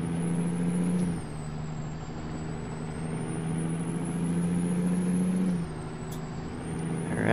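In American Truck Simulator, a loaded rig carries beams across Nevada toward Winnemucca, its engine holding a constant low rumble that drops slightly in level just after a second and climbs again, with a faint high-pitched whine above.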